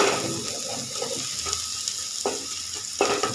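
Chopped onions frying in a pan for a mashed fish dish, a close crackling sizzle broken by a few scraping stirs near the end, no talking.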